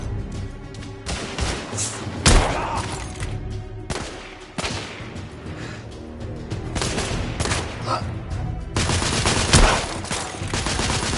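Gunfire from a firefight in The Order: 1886, with sustained automatic bursts and heavy individual shots and thuds repeating loudly and close over about ten seconds, and no talking.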